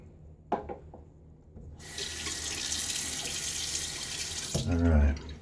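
Tap water runs into a sink during a wet shave, starting abruptly as a steady hiss and splash for about three seconds before cutting off. A few faint clicks come before it, and a brief voice murmur follows.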